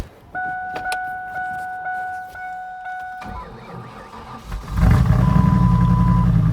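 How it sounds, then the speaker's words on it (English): A starter whines and cranks briefly before a truck engine with a junkyard 302 V8 catches on a cold start at 24 degrees, then the engine rumbles loudly at a rough, steady idle with a slight misfire nearby. "Now I'm gonna do a cold start on the truck."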